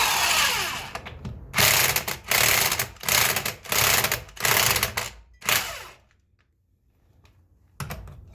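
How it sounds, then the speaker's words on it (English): An impact gun zips lug nuts off a Jeep in a string of loud, close, rattling bursts, about six ratcheting blasts separated by short pauses, then silence before a final brief burst. "that is how you take them off with an impact gun and put them on the same way"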